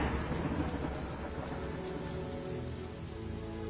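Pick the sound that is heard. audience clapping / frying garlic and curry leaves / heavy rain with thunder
heavy rain with thunder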